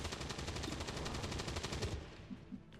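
A rapid burst of automatic gunfire from the video game XCOM 2, with evenly spaced shots ringing out loudly for about two seconds before cutting off and leaving a few quiet thuds.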